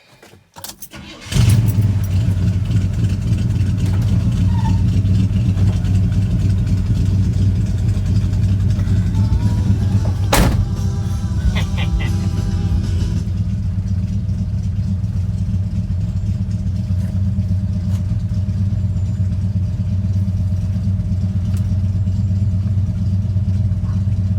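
A 1977 Chevy C10 truck with a 400 HP engine and new headers and exhaust cranks and starts, then settles into a loud, steady idle with a deep rumble, a brief rev around the middle and no talking.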